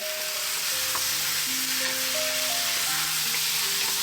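Sliced pork, pieces slightly larger than a thumb, sautéing in a pan with cooked garlic and onions for a Filipino siopao filling: a steady, close, loud sizzle throughout, with faint tonal music underneath.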